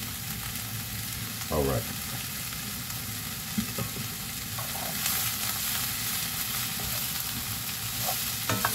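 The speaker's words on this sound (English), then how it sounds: "Stir this around and get everything really cooking" Broccoli and other vegetables sizzle steadily in a hot pan, with a few close spoon stirs and scrapes over the hiss and a brief spoken word.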